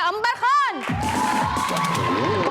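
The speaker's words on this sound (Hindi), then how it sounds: "बहुत सारी तालियां उसके लिए" A studio audience on a television entertainment show cheers and whoops for an arriving guest, a shrill rising call giving way to a broad crowd roar mixed with bright tones.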